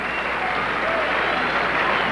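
A crowd at Roland Garros in 1997 applauds Guga during his match against Muster, a steady, dense wash of clapping throughout with faint commentary underneath.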